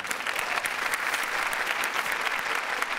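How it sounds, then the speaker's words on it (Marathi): A studio audience at a Marathi comedy show claps loudly and steadily to welcome actress Sai onto the stage. The applause is dense and continuous throughout. "जोरदार टाळ्या."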